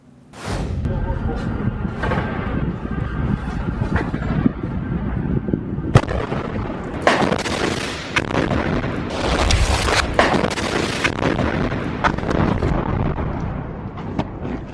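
Heavy booms and bursts of gunfire from fighters attacking Israeli tanks crash repeatedly, loud and dense, over a continuous rumble, while a voice talks over them throughout.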